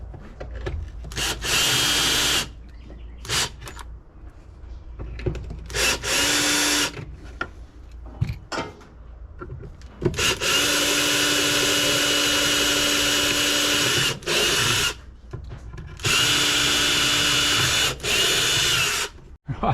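A power drill bores wiring holes for a DIY vehicle canopy in repeated loud bursts of several seconds each, with quieter handling noises and shuffling between runs.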